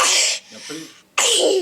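A person sneezes twice in quick succession, two loud sharp bursts close to the microphone with a short breathy pause between, amid brief talk.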